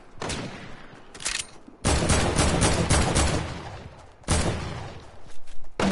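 Bursts of rapid gunfire in a video game, loud and close, coming in long dense volleys separated by short pauses, with no talking over it.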